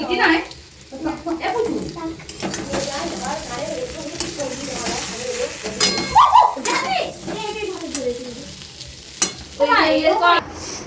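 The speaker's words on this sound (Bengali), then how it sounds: "এদিকে মাংস আলু ভাজছে" Meat and potatoes fry in a pan with a steady sizzle and occasional stirring scrapes, heard close up beneath ongoing household talk.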